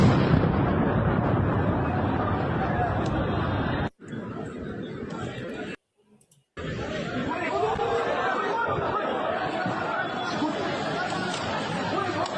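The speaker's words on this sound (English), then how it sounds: "So we have that massive explosion that happened there" A massive explosion roars as a dense, sustained rumbling blast, broken by brief dropouts and then continuing loud, with chattering voices mixed in.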